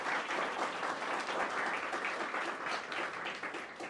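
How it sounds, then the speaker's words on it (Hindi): Audience applause at a large 2025 employment fair event in India, a dense, steady crowd of clapping hands sustained at even loudness throughout, with no voices over it. "इनके लिए भी तालियां बजा दी।"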